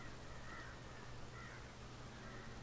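Crows cawing in the video game Planet Coaster, at a spooky ghost train coaster build; a few harsh caws over a steady low ambient hum, with no talk.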